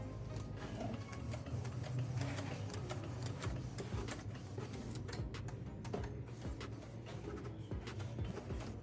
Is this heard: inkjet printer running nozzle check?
yes